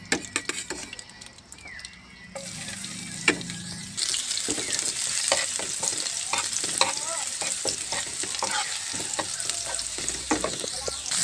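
Garlic sizzles and crackles in a hot pan, the frying growing louder partway through, with occasional scrapes of stirring.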